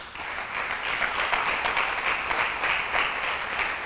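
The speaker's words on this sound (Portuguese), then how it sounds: "Dá um aplauso aí." A church congregation claps steadily for several seconds, a dense, fairly loud applause filling the room without pause.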